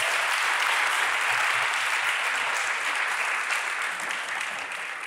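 An audience at a Lion King stage show applauds four newly joined sign-singing performers, with steady, dense clapping that fades slightly toward the end.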